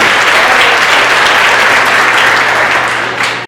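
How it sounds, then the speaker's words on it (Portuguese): A church congregation applauds during a worship service, dense, loud and steady clapping filling the room for several seconds before easing slightly at the end. "Se você quiser, pode aplaudir ao Senhor"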